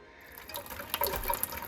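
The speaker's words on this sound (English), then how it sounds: "And there's running water" Water runs steadily from an outdoor tap near lakeside cabins by a fish cleaning station, a short, close splashing flow with bright spattering.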